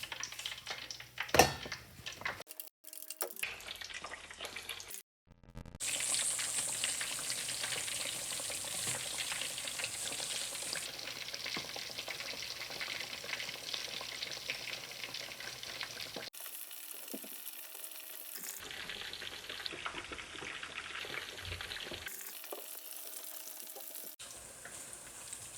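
Pieces of meat frying in a hot pan make a sustained, fairly loud sizzle that starts and stops as more pieces go in, broken by short clunks and brief quiet gaps.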